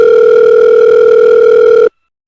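A steady telephone dial tone sounds loud and continuous while a call is being placed, then cuts off abruptly into silence.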